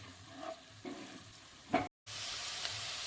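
Onion frying in butter for home-style butter chicken is stirred in the pan, giving a steady close sizzle with soft scraping strokes, a brief cut, then a louder continuous sizzle.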